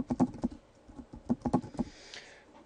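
Password typed on a computer keyboard, two quick bursts of clicky keystrokes close up, then a short soft rustle.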